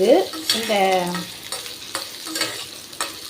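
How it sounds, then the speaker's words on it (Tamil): Ginger for thuvaiyal sautés in a pan with a close sizzle, broken by repeated scraping stirs at a loose, even pace. "நல்லா வதக்கிக்கலாம்"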